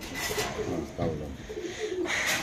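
Pigeons coo repeatedly in a busy pigeon market where birds are sold, low rolling calls rising and falling over steady crowd murmur and background chatter.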